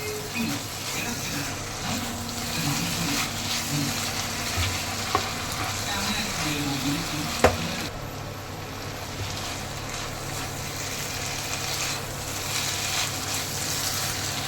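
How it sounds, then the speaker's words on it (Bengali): Keema matar masala stirred in a hot pan gives a continuous frying sizzle with scraping and a couple of sharp clinks of a spoon against the pan, while a voice talks faintly underneath. "একটু নেড়ে নিই।"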